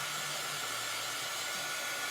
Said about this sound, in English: we're also going to hit it with a dryer.